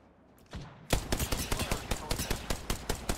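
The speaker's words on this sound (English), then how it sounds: "Are you guys shooting your guns?" Rapid bursts of automatic gunfire from Apex Legends, loud repeated shots crackling in a fast rhythm after a brief quieter moment, close and continuous through the fight.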